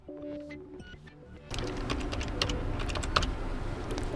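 Laptop keys clatter on an HP EliteBook 745 keyboard as a code is typed in, a close, busy run of quick plastic taps that grows denser and louder partway through.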